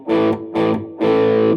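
Three loud distorted electric guitar chords, two short stabs followed by a longer held one, gritty and sustained with no voices.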